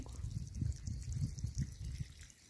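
A drip irrigation line waters an organic field planted with turmeric, making a faint, soft trickle with gentle low gurgling pulses and no talk over it.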